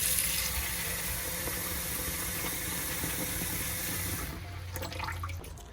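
Water gushes steadily from a tap at an RV campsite, filling a drinking bowl for dogs, a loud continuous hissing rush that shifts in tone near the end as the flow changes.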